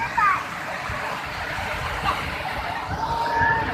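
High sea waves at Mubarak beach in Karachi, a continuous rushing wash of water under crowd noise and nearby voices, with people talking over it.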